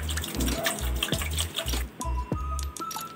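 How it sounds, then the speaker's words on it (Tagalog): Water from a tap runs and splashes into a pot while fruit cocktail gelatin is being made. A steady gushing pour with gurgling and a rising, filling tone, close and fairly loud. "Ilagay na natin yung tubig."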